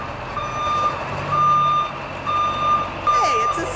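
A school bus arriving outdoors, its reversing alarm sounding in four steady, evenly spaced beeps over a low engine rumble, fairly close.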